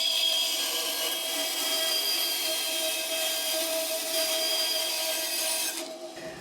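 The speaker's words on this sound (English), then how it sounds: "we're just going to very quickly run this through the bandsaw" A bandsaw trims excess plywood from a guitar body blank, a steady, bright whirring cut held evenly for several seconds before the blade leaves the wood and the sound drops away.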